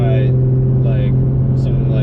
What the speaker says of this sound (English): This is the VR38 DETT, which is the twin turbo. Well, it's definitely a great sounding engine.